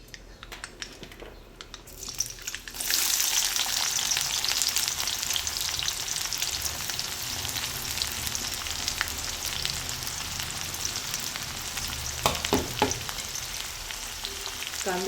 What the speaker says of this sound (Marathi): कांदा पण थोडा परतून घेऊया त्यामध्ये.